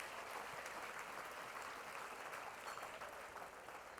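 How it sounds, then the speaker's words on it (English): An audience at a zero-tolerance benefit event gives a continuous round of applause, dense even clapping from a crowd filling the room with no voices over it. "A round of applause real quick for the reason we're all here"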